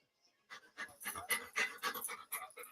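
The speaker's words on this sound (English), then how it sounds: "this might sound like a typical family dog" A family dog pants in quick, steady, rhythmic breaths, close and fairly quiet, with no talking over it.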